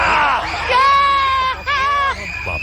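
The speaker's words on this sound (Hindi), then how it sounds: "वहाँ पे क्या हाई पिच की चीख है" A high-pitched scream rises over a noisy crowd during a Takeshi's Castle obstacle-course game show, loud and sustained for about two seconds with a short break, and another brief yell at the end.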